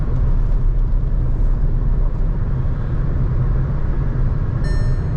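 Cabin of a Skoda Kushaq 1.0 8AT cruising at 120 km/h around 2200 RPM on a highway: a loud, steady broadband roar of road, tyre and wind noise with low engine drone, continuous and unbroken.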